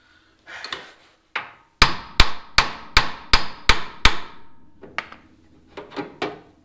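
A hammer strikes repeatedly to knock loose the ball joint on a Nova / Camaro front suspension. Sharp metallic blows land in a quick run of about seven, then a few more scattered hits follow, loud and close.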